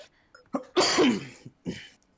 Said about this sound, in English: He was bent nearly double and coughing uncontrollably, his entire body shaking with each cough.